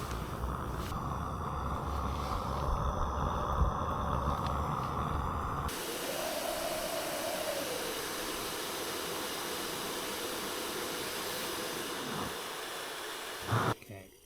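Steady hiss of a camping stove burner boiling water at a wild camp in the Lake District, continuous and close, with a brief clatter near the end.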